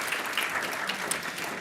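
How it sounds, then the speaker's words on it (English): Brief applause from a conference audience after a talk at a rare disease day event, steady moderate clapping heard throughout. "A round of applause,"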